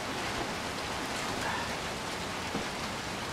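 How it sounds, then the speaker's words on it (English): Steady, dense rain falling in the video game Little Nightmares 2, a constant hissing wash of drops with no break and no talk. "We gotta get out of the rain, man."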